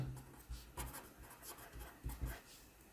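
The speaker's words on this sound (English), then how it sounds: "Let me write the question down" A pen writes out an exam question on paper for a pure mathematics worked solution, giving soft scratchy strokes in short bursts with brief pauses, quiet and close with no voice.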